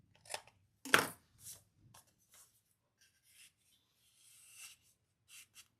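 Edges of a paper card being trimmed by hand, a few faint scattered rubbing and snipping scrapes with short gaps of near silence, quiet and close.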